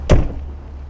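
Driver's door of a 2008 Winnebago Voyage 32H motorhome shutting with a single sharp thud up close, followed by quiet.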